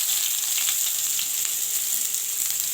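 Onion frying in hot oil in a pan, the start of a masoor dal with jute leaves; a dense, even sizzle heard up close with no break.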